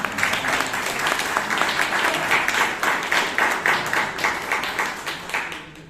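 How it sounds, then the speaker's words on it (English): Applause from an audience at a Bangalore Toastmasters meeting: many hands clapping steadily and densely for about six seconds, fairly loud and close, tapering slightly at the end, with no talking over it. "give him an applause"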